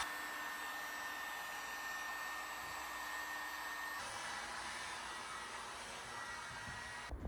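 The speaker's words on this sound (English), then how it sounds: "this new heat gun just doesn't have quite as much watts as my last one" A Harbor Freight heat gun blows steadily while a Cherokee war bow is bent, a continuous close whooshing hiss that shifts tone partway through and stays even throughout.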